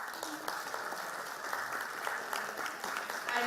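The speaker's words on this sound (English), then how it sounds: "a huge round of applause" An audience at a forensic conference on drug abuse at Sion Hospital applauds a guest speaker, with continuous many-handed clapping at moderate distance and faint voices mixed in.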